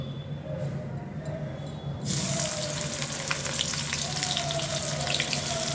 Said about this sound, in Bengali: এই তেলেতে আমি এখন দেব পেঁয়াজ কুচি, আদা কুচি আর রসুন কুচি।